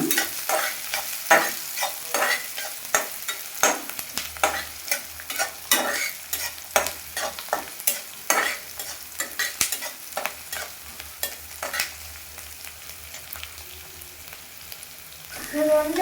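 Green chillies and curry leaves fry in hot oil for a tempering, with steady sizzling and repeated scraping strokes of a spoon stirring the pan, close and clear, no voices.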